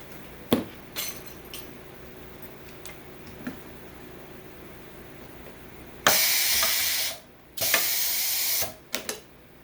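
An automatic grommet machine presses a grommet and washer into 4mm Coroplast for a hanging sign, with a few sharp ticks early on, then two loud hissing pneumatic bursts that stop abruptly and end in quick clicks.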